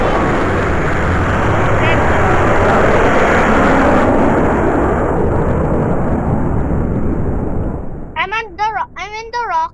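A rocket in a video game roars through its launch as a loud, sustained broadband rumble, with a voice speaking over the final seconds as the noise continues.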